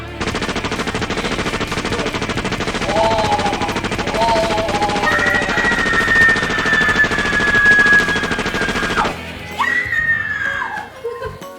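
A toy Vulcan gun sound effect fires a loud, continuous machine-gun rattle with rising screechy tones for about nine seconds, then cuts off into a brief, fainter whooshing tail.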